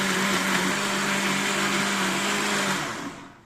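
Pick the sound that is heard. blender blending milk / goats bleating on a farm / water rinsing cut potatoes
blender blending milk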